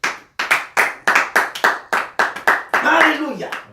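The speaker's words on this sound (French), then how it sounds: "Est-ce que tu peux acclamer très fort le Seigneur?" A church congregation claps in rhythmic bursts of hand claps, steady and moderately loud, ending in a swell of cheering voices.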